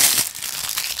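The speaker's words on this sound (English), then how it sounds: "Pardon the noise as I unwrap this plastic bag." A plastic bag wrapping a G-Shock GW5000U watch is crinkled and crumpled continuously at close range. The dense rustle runs throughout, loudest at the start, and no one speaks.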